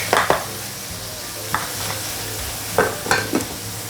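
Red chili powder stirred into a pot of frying ingredients, a soft sizzle beneath intermittent scraping strokes of a spoon, several close, distinct scrapes clustered near the end.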